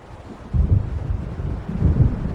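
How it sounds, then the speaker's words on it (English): Low rumbling swells of an approaching thunderstorm in Alan Wake Remastered roll in near the lake by Diver's Isle, a dull gusting roar rising after a quiet start and surging again toward the end, with no talk. "It seems there's a storm coming."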